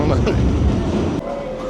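A New York City subway train running fast, with a steady loud rumble and rattling roar filling the car, a thin tonal whine from the wheels toward the end, close and continuous.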